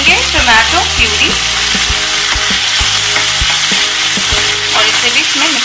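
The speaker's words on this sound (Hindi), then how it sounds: "अब हम इसमें डालेंगे टोमेटो प्यूरी" Tomato puree sizzles loudly in a hot kadhai of roasted spices for kadhai paneer, a steady frying hiss broken by regular knocks and scrapes of a spoon stirring, with no voices.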